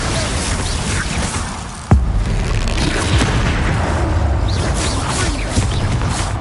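A spell blast from Bombarda in the video game Hogwarts Legacy lands as one sharp, loud boom partway through, over constant combat noise and rumble, with a fainter impact following.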